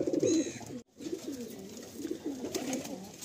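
Pigeons at a Kolkata pigeon sale cooing close by, soft repeated low coos with a short break partway through, over a faint background hum.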